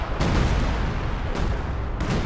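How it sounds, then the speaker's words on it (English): Assault artillery fire in a WWII-style strategy video game, with a dense continuous rumble of blasts and several sharp impacts standing out, loud and close with no talking. "we actually have assault artillery getting called in on this sector"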